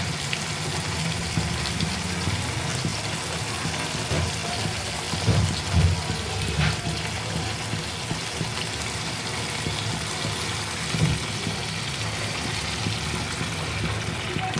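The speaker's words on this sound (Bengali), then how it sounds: "এবার আমি পরিমাণ মতো জল অ্যাড করব" Water poured into a cooking pot of frying mutton curry masala, a steady hissing, splashing wash lasting the whole stretch with a few louder surges near the middle and end, close and moderately loud, with no talking.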